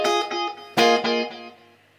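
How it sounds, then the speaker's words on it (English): Electric guitar treated with compression, reverb and a tight eighth-note slapback delay, playing a few bright chords whose quick echoes bounce back right after each strike and fade into a ringing tail. "I've now got compression, reverb, and this first delay on. Sounds like this."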